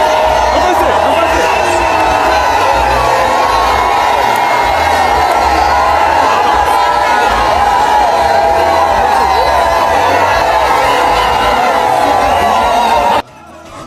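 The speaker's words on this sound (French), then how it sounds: "C'est dans les acclamations et ovations frénétiques que la distinguée première dame Denise Nyakeru Tshisekedi a accédé à l'esplanade de la permanence du parti" A large crowd cheers and shouts continuously to welcome first lady Denise Nyakeru Tshisekedi at the UDPS party headquarters esplanade, a loud, sustained roar that cuts off abruptly near the end.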